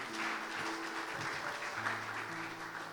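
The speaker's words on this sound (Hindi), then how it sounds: "जोरदार तालियां खुदा के नाम के लिए।" Church congregation applauding in praise during a sermon, a faint, continuous wash of clapping with a steady musical tone underneath, heard at a distance.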